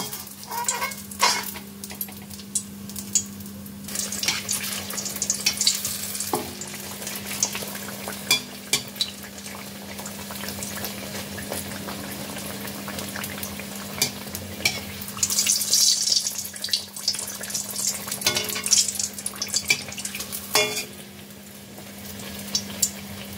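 Malpua batter frying in hot oil, a close, continuous crackling sizzle with scattered sharp pops and occasional bursts of louder spattering over a low steady hum, no voices.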